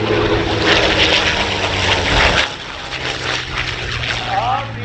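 A P-51D Mustang warbird flies at the Dayton Air Show, its piston engine giving a loud, droning roar with strong tonal harmonics that shifts pitch midway as the plane passes, under announcer talk.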